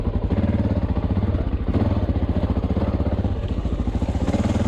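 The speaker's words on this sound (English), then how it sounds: "let's hop on the bike and head back down the mountain" A Honda XR600R dirt bike heads down a rocky mountain trail, its big single-cylinder engine thumping in a steady, fast pulse that dips briefly and picks back up, loud and close.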